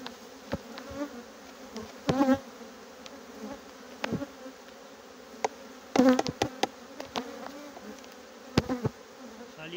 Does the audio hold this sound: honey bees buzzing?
yes